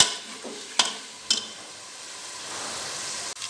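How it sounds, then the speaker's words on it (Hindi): Onion paste fries in oil for mutton karahi, a steady soft sizzle broken by a few sharp stirring scrapes near the start, with no talk. "जी प्याज का पेस्ट डाल दिया मैंने। अब मैं इसको फ्राई करूँगी हल्का सा।"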